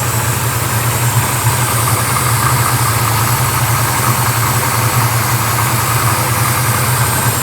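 A 1971 Hemicuda engine idling steadily while warming up, a loud, close, continuous low rumble with an even throb and mechanical whir, no voices.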